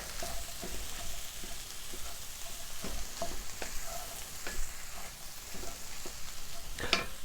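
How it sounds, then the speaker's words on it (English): Beans are mixed into a pan of hot food with the heat just turned off, a soft continuous sizzle under regular scraping strokes of a spoon, ending in a louder clatter near the close, with no talking. "I want to get the beans in there. Mix those in a bit."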